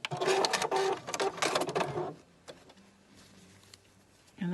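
A sewing machine stitches a small zigzag back and forth to secure elastic on fabric, loud rapid whirring bursts for about two seconds, then quiet with a final short burst.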